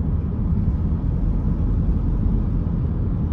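Car interior while driving, a continuous low rumble of engine and road noise filling the cabin, steady and even with no voices.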